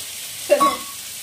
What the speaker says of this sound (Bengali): এবার আলু ভাজছে।